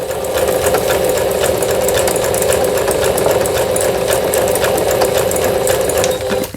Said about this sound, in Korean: 정상적으로 지그잭 바느질이 돼서 나오고 있고요.